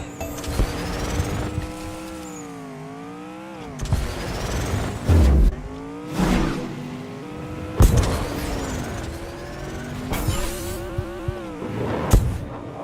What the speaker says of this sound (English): My car took off with a little more gusto than I anticipated.